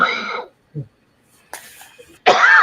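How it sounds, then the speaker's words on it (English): A single sharp cough bursts out near the end, following brief bits of speech and quiet pauses. "Cough has just been getting at me."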